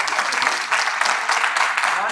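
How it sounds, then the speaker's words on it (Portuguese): Congregation applauding the Lord during a church theology seminar, a steady wash of clapping from many hands filling the whole stretch at even loudness, with no break. "Vamos aplaudir ao Senhor"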